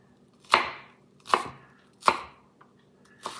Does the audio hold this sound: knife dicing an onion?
yes